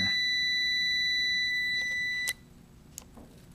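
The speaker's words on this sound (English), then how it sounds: "The beeping, by the way, just means that I have the wrong connectors down here." An Amprobe 37XR-A digital multimeter gives a continuous high-pitched beep for about two seconds, close and clear, signalling wrongly placed test leads, then cuts off, followed by a few faint clicks.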